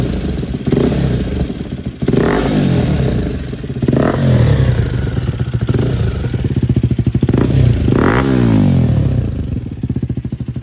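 A KTM Duke 250 fitted with a loud aftermarket exhaust is revved hard in repeated bursts, each sharp climb falling back to a rough, popping idle. The engine is close and dominant, with no talking.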